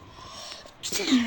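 A single short sneeze bursts out near the end, close and sharp, after a quiet stretch with faint background.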